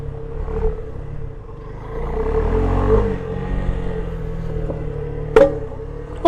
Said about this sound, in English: I keep hearing the front tire hit something when my suspension compresses all the way